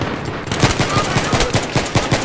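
Gunfire in the Battlefield 3 video game: a dense, loud run of shots at a steady rapid rhythm over a constant noisy game background.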